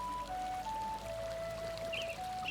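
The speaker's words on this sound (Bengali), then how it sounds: "তো এখানে আমি অল্প পরিমাণে জল দিচ্ছি, বেশি দেব না।" Water poured in a thin stream into a pot of chicken curry with meat and potatoes, cooked on a clay stove; a steady, quiet trickle close by runs the whole time with no talking.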